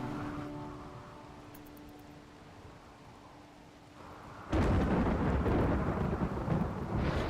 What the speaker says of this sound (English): This thunderstorm is trying its best to screw me over.